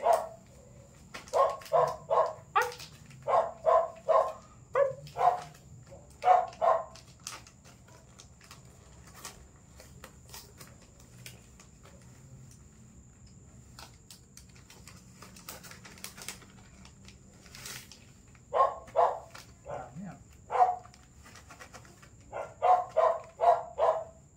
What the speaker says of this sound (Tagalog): Aso na malaki.